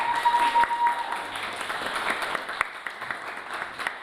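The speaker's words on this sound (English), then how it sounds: "So a round of applause to all staff," Audience applause for staff at a university students' union election results night, a steady wash of clapping from a crowd that carries through the whole stretch, fairly loud and close.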